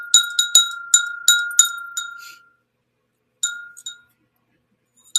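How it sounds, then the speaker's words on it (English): Small ornamental bell, about six inches tall, rung by hand: a quick series of about eight bright, close chimes in the first two and a half seconds, then silence, then two or three more rings with a faint final tap. "Cute bell."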